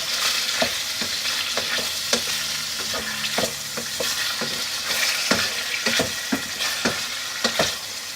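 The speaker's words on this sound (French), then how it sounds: "on les fait bien dorer" Strips of turkey escalope fry in a pan and turn golden. A steady close sizzle runs throughout, broken by sharp scrapes and taps as the meat is stirred, with no talking.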